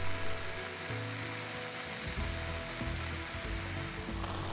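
Cabbage and ginger strips sizzle and fry steadily in a hot pan for Shanghai spring roll filling, a continuous dense crackle with occasional stirring scrapes, heard alone without talk.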